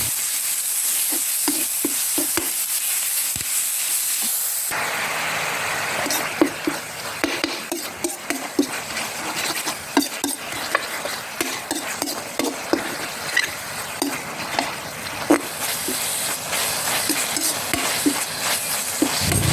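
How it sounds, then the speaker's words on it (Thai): Minced pork is stir-fried in a pan with a little water, a continuous close sizzle broken by repeated scrapes and knocks of a spatula against the pan. "นี่ครับใส่หมูสับลงไปครับ ผัดคลุกเข้าให้เข้ากันนะครับ"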